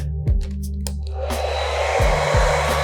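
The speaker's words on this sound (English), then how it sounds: "hairdryer," A hair dryer on low setting blows with a steady, close whirring hum, its tone shifting slightly with a few soft bumps.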